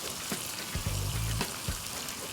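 Tomatoes fry in a pan with a close, continuous crackling sizzle and scattered small pops.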